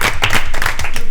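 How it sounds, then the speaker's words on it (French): A small audience claps briefly, a quick burst of close, uneven hand claps lasting about a second with no voices. "On peut vous applaudir."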